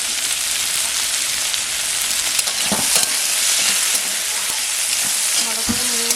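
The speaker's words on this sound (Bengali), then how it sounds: "ভালো করে নেড়ে নেব।" Chirer polao, flattened rice with potato, salt and turmeric, fries in a pan with a steady, loud sizzle while a spoon scrapes and stirs it, clacking against the pan near the end.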